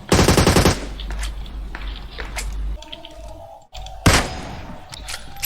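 Automatic gunfire in the mobile game PUBG Mobile, with a loud rapid burst at the start and another burst later, over game ambience.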